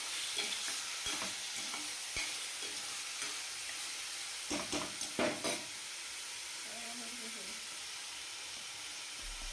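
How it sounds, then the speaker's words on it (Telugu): Chicken pieces and tomatoes fry in a pan for a curry with bottle gourd. A soft, continuous sizzle plays under irregular scraping and knocking as a spoon stirs, with a brief cluster of louder clatters midway. "చూడండి, ఈ విధంగా ఒక 2 నుంచి 3 నిమిషాలు బాగా కలుపుతూ ఉండండి."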